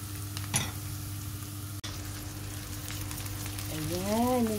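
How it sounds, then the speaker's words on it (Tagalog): Onion and garlic sizzle steadily in a pan, a close, continuous frying hiss with one brief stir near the start and no speech. "Smells good talaga ang sibuyas bawang pag ginigisa."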